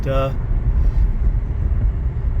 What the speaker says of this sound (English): That supercharger kicks in, and you can feel the pull.